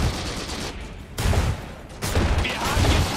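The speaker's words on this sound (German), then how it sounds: "Achtung, Feindbeschuss!" Enemy fire in the war game Iron Harvest comes as rolling volleys of muffled gunshots amid battlefield din, in two or three surges separated by brief lulls.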